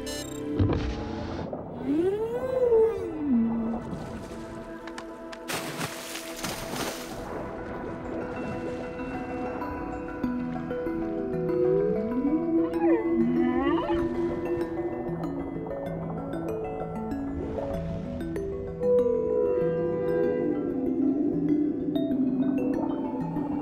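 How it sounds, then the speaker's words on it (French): Two whales sing together underwater, their long tonal moans rising and falling in slow glides and layered harmonies that run continuously, with a brief noisy burst partway through and no talking. "2 baleines uniques pourront enfin chanter en harmonie"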